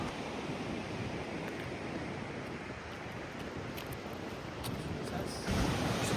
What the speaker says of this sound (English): Getting to walk next to its emerald green waters and listening to that water flow the entire time